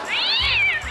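A cat meows once in a rising-then-falling wail lasting about a second, close and fairly loud, with a low hum underneath.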